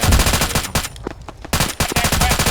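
Rapid bursts of automatic gunfire crack loudly during a field training exercise, two dense volleys separated by a brief lull with a few scattered shots, close and harsh.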